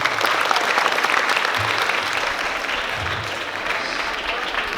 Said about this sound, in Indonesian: Tepuk tangan SMK.